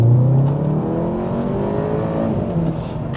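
Loud engine note of a small, quick car accelerating on the road, a steady rising drone heard up close with no voices.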